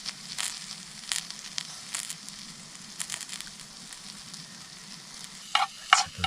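Mushrooms and onions sizzle and crackle steadily in a pan at a lakeside cook-up, with scattered louder pops and stirring scrapes near the end.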